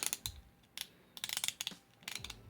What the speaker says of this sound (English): Listen to the nice quality ratchets inside there.